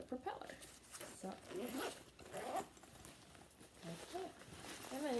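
Pocket zipper on a Lug Propeller packable bag being zipped in the reverse direction, a few short rasping pulls close to the microphone, under continuous talking.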